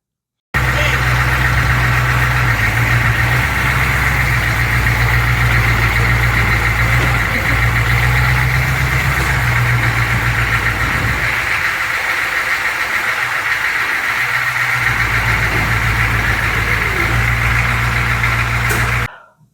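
A Humvee bought cheap after use as a military parts truck runs at a steady idle, its low engine rumble holding constant and close throughout, with a speaking voice layered over it.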